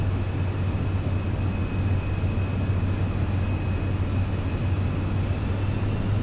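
Airliner taxiing in Microsoft Flight Simulator 2024, a steady loud engine drone with a low constant hum and a faint high whine, holding even throughout with no talk.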